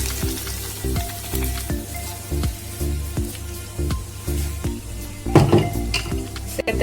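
Steady sizzling in a pan of potato batter frying before rava goes in, with regular scraping strokes of a spoon repeating about once a second and a brief louder clatter near the end.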